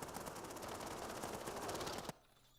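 Rapid automatic gunfire with heavy recoil from a gun in the Call of Duty video game: a dense, steady burst of shots that stops abruptly near the end, leaving quiet game ambience.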